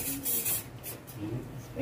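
A spray bottle hisses in several short, close bursts, with a voice talking quietly underneath.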